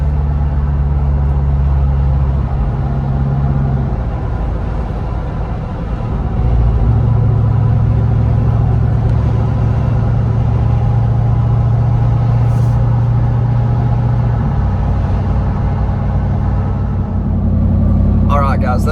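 A Jeep Wrangler Rubicon 392 drives winter backroads, its engine a loud, steady low rumble heard from inside the cabin that rises and falls as it changes speed, with a voice talking over it.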